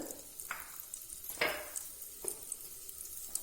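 Two sliced onions salted and frying in a pan for pot biryani, a soft, steady sizzle with a few brief clinks and stirring scrapes, heard close and alone.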